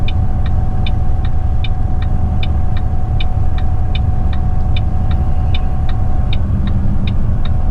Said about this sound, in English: I have my engine brake full power, position 2.